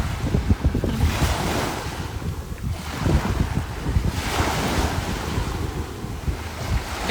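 Ocean waves wash steadily onto the shore in a continuous, loud roar of surf, with wind buffeting the microphone and no voices.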